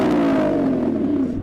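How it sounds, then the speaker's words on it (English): A Lamborghini Revuelto engine revs hard, a loud strained roar that holds steady for over a second while its pitch slowly sinks. "So I'm going to rev up this Lambo."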